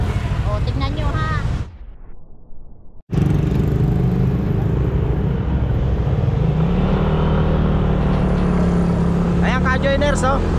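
Motorcycle riding along a road, its engine drone and wind rumble loud and continuous after a brief drop-out, with people talking over it at the start and the end.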